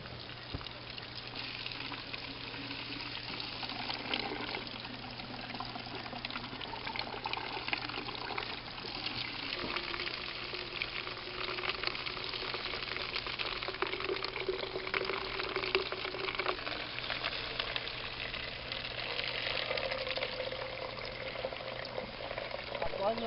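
A rainfall simulator sprays a 30 mm simulated rain onto bare soil with no straw cover, producing a steady, even hiss of falling water that continues unbroken at a constant moderate level throughout.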